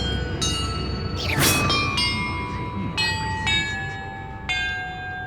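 Bells ring in the video game Hogwarts Legacy, with about six clear metallic strikes whose tones overlap and sustain. A brief whooshing swell passes early on, and no one speaks.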